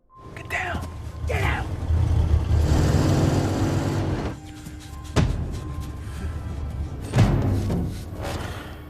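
A pickup truck drives up, an engine rising and holding loud for a couple of seconds before easing off, followed by sharp thuds and slams, with voices in between.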